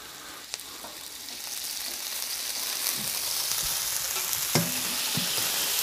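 A ribeye and Brussels sprouts fry on a Blackstone griddle with a continuous close sizzle, marked by occasional spatter clicks and a few scraping stirs.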